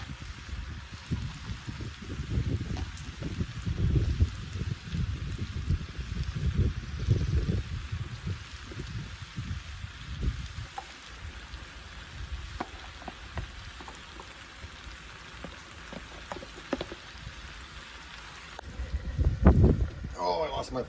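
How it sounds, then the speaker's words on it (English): Gusts of wind buffet the microphone outdoors beside a cooking fire, rumbling in bursts of low noise over about twenty seconds, strongest at the start and again near the end. "Oh, I lost my fire. Wind gust."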